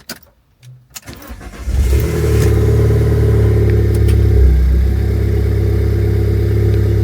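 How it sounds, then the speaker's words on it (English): A car engine cold start: it cranks briefly, catches and roars up loudly, then settles into a steady, rumbling high idle close by. "Thought I'd just do a little cold start for you as well."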